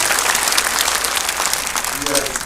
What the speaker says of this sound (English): We get a round of applause for all of the honor graduates